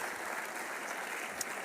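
A Hall of Fame induction audience applauds the inductee's family, heard as a faint, distant, steady wash of clapping with no single claps standing out.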